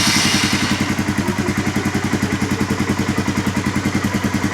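A 1999 Honda FourTrax 300 ATV engine idles close by with a steady, even putter of rapid rhythmic pulses, running smoothly with no other sounds.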